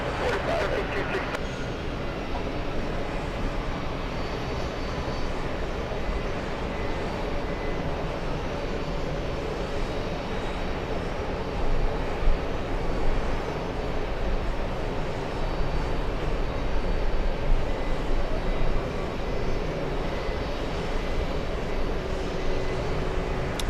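A Kenya Airways Boeing 787 powers along at JFK, its jet engines a broad, steady roar that holds at even loudness throughout, with a voice talking faintly underneath.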